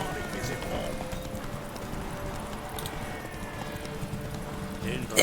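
A horse galloping in the video game The Witcher III: steady rhythmic hoofbeats at moderate level throughout, with someone talking over them.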